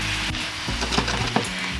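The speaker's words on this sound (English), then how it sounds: "we leave the tempeh cook for a couple of minutes" Tempeh cooks in a hot pan with a steady close sizzle and a few sharp clicks and scrapes, moderately loud and without speech.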